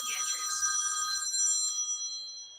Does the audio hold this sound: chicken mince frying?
no